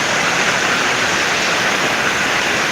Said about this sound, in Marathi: तर हा बघा पाऊस मोठ्याच्या मोठा झाला आहे चालू जबरदस्त पाऊस येतो आहे